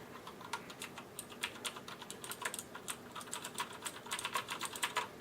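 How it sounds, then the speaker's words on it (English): Fast, clicky typing on a HyperX Alloy FPS mechanical gaming keyboard with Cherry MX Blue switches, a dense run of sharp, bright keystrokes at close range that quickens toward the end, with no talking. "You hear that nice mechanical click, that's Cherry MX Blue switches."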